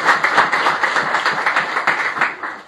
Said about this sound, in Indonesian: Beri tepuk tangan terbaik buat Tuhan Yesus.